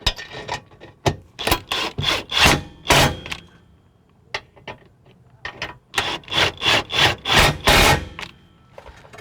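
Nuts being tightened on a Rock Hard 4X4 evap skid plate under a Jeep Wrangler JK, heard as two runs of close, repeated rasping ratchet strokes separated by a quieter pause.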